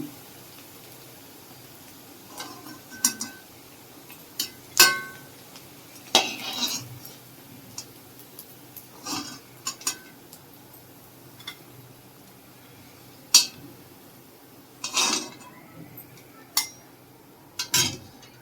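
Fried vegetable Manchurian balls lifted out onto a plate, irregular clinks and clatters of a utensil against pan and plate over a quiet background, some single taps and some short clustered scrapes.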